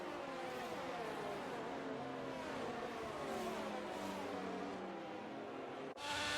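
Race cars on a formation lap in Austria drone steadily past, engines revving and whirring with rising and falling pitch, fairly loud and continuous, with a sharp change near the end.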